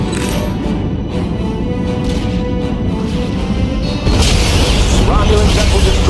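A Romulan vessel explodes in the Star Trek Legacy space game, a loud sustained rumbling blast that swells midway into a heavier roar, with no voices over it.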